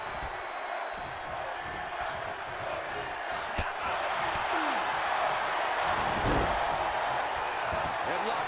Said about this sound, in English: this crowd is on their feet in full appreciation